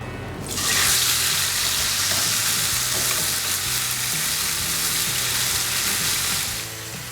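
Loud, steady sizzling of chicken frying skin side down in a hot grill pan, a continuous hiss that swells in and fades slightly at the end.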